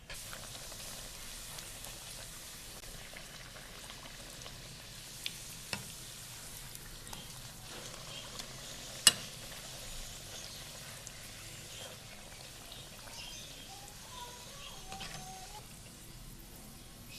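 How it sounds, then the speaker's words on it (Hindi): Puris frying in hot oil for halwa puri, a soft, steady sizzle running throughout with a few faint clicks of utensils, no voices. "हमने इन्हें हल्का हल्का प्रेस करके फ्राई करना है।"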